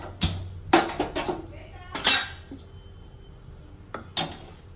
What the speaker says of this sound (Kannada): ಇವಾಗ ಒಗ್ಗರಣೆಗೆ ಬಾಣಲೆ ಇಡೋಣ